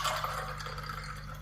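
Water poured over frozen lemon juice cubes in a glass, a steady close trickle and splash lasting the whole moment with no voices.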